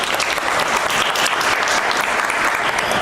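A crowd applauds loudly and continuously at a high school admissions information session, a thick, even roar of clapping hands with no pauses.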